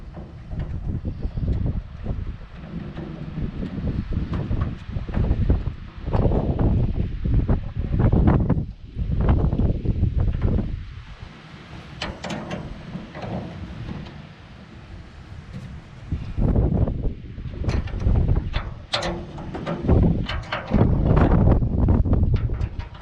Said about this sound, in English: The wind's blowing out here